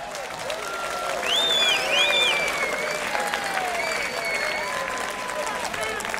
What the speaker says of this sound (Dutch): Dus een heel groot applaus voor uzelf.